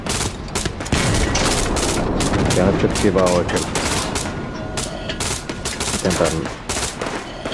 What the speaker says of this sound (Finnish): Rupeet vaan tykittää KK:lla sinne